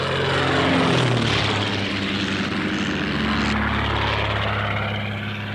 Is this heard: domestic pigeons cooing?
no